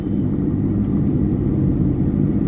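Busy traffic on the main Kanjhawala road in Delhi gives a steady, dense low rumble of passing vehicles, continuous and without breaks.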